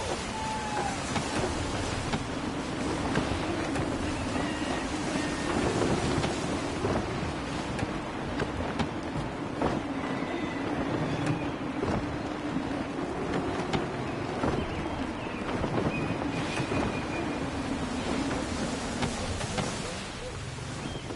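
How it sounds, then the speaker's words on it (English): Gusty wind roars over a sailing ship at sea in Assassin's Creed III, a steady broadband rush of air and water lasting throughout, with swells and creaks beneath and no pauses. "Gusty winds can be difficult to manage."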